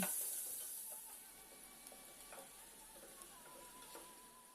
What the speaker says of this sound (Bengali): পেঁয়াজগুলোকে এখন ভেজে নিচ্ছি